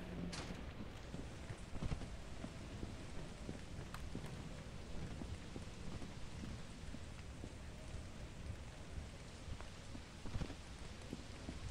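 Steady rain falls with low, distant thunder rumbling beneath it in the video game Lethal Company, a dense constant wash of noise with a few faint knocks and no voices.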